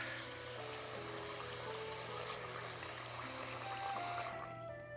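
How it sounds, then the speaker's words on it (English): Water from a tap pouring into a cooking pot to cover stuffed tripe pieces, a steady close rushing splash that fills the space and then tapers off as the flow stops. "Now we'll fill our pot with water to cover the whole thing."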